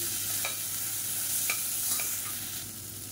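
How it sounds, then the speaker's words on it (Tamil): Mint and coriander leaves sauté lightly in a pan, giving a steady soft sizzle of frying with a few brief scraping stirs of a spoon, close and moderately quiet, with no talking. "இப்போ இதையும் சேர்த்து லேசாக வதக்கி எடுத்துக்கலாம்."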